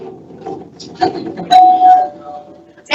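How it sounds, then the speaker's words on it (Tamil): A doorbell rings at home during a staged comedy skit, giving a loud electronic chime over room noise with voices nearby. "பெல் அடிக்கிறாங்க பாருடா, யாரோ வந்திருக்காங்க."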